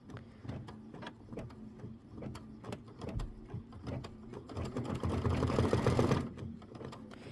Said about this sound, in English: Stitch the ribbon placement lines.